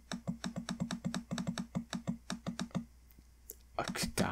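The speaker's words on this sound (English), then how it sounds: "You just hear my stupid clicking." Rapid, steady mouse clicking while playing DragonFable, an online fantasy role-playing game, with dozens of close sharp clicks in an even rhythm for several seconds, then a pause and a few louder clicks with a brief breathy sound.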